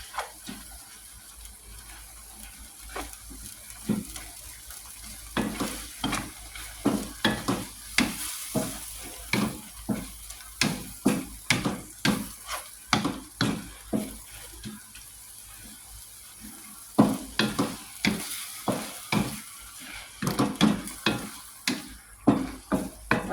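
Shrimp and mushrooms stir-fried with holy basil in a pan for pad kaprao: a steady low sizzle under repeated scraping and clattering strokes of a spatula, close and fairly quiet, continuing without pause.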